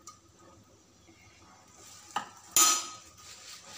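Prawns are stirred into a pot of simmering ripe tamarind sour, with soft scraping and utensil clinks over a faint bubbling, then a couple of sharper louder knocks against the pot near the end.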